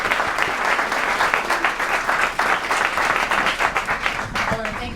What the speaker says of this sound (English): So we could give a round of applause